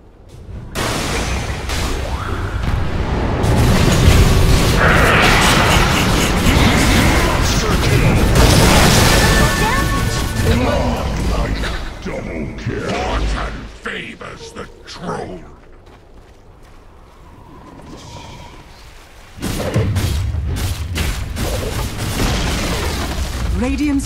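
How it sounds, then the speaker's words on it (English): Dota 2 match as Radiant's middle tower comes under attack: a loud, continuous wash of booms, crashes and clashing effects, easing to a quieter stretch before the battle noise surges back, with voices over it. "Radiant's middle tower is under attack."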